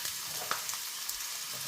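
Onions being sautéed in a pan for butter chicken give a brief, faint, hissing sizzle with a couple of soft stirring ticks, heard alone.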